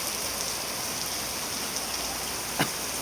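Heavy rain pours steadily in Camarines Sur, Philippines, a dense, even hiss of drops on surfaces with one short sharp tap near the end.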